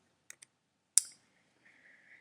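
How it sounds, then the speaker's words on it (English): A few crisp, close clicks from a computer keyboard: two light taps, then one sharper keystroke, followed by a faint, thin hum in a quiet room. "we got to type this in"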